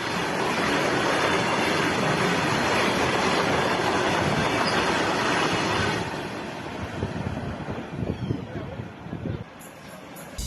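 A runaway goods train with no loco pilot aboard rolls along the rails near Pathankot, Punjab. It makes a loud, steady rumble and clatter of wagons that eases slightly after midway, with some scattered knocks near the end.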